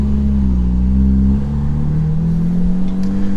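A Porsche GT3 RS pulls away with a loud, close engine drone holding a steady pitch and rising slightly, without any voices.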